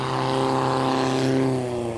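A motorboat passes on the water in Cambodia, its engine a loud, steady, buzzing drone close by that peaks midway and then eases off slightly, heard alone without talk.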